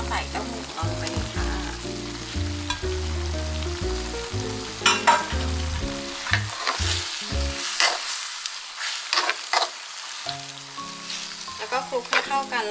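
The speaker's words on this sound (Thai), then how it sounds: "พอบรอกโคลีเริ่มสุกแล้วก็ใส่แครอทลงไปได้เลยนะคะ" Broccoli and carrot stir-fry in a pan for a vegetarian meal, giving a steady close sizzle with scraping and stirring clatter throughout, briefly quieter midway before picking up again.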